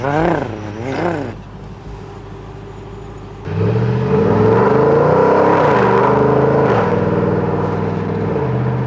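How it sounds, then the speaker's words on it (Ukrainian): Chevrolet Camaro SS V8 engine revved hard from a standstill, a deep roaring blip and a long sustained throttle, loud and close, after a brief quieter stretch of idle. "Ці прогазовочки, розгазовочки"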